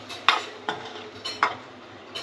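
A utensil stirs an egg curry spice mixture in a pan, four sharp metallic scrapes and clinks spaced about half a second apart over a soft background hiss, close and without voices.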